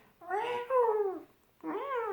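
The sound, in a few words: person imitating an angry cat meowing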